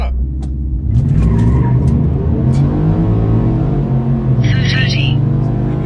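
Stock pickup truck with a 5.0 or 5.3 V8 accelerating hard with its tires spinning, a loud sustained engine roar and tire noise up close, with people talking over it and a brief high squeal near the end.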